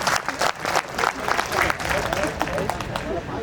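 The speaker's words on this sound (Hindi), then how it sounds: "ताली इनके लिए।" An audience at a farming talk breaks into brief, dense applause, many hands clapping at once for a few seconds while voices carry underneath.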